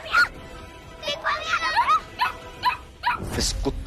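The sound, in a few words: dog barking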